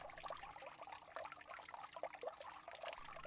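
Water trickling sound effect from a dam scene: a faint, steady liquid dribbling with small drips and bubbling, alone without talk.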